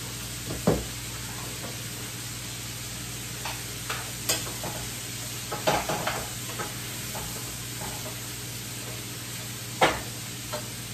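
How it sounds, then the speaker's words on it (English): Vegetables sizzle softly and steadily while stir frying in a pan, with occasional clinks and scrapes of a utensil stirring at irregular moments. "So now it's like it's stir frying."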